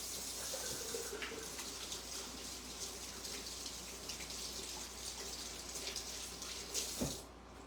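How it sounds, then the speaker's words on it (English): Tap water runs steadily into a sink during handwashing in a home kitchen where almond cookies are being baked, a continuous mid-level stream that stays unbroken throughout with a brief splash near the end. "Let me wash my hands again."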